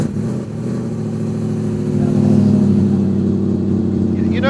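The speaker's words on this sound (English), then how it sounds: "Can we start it up?" A Mini fitted with a BMW V8 rumbles loudly close by, a deep burbling idle that swells into heavier revving partway through, with no talk over it.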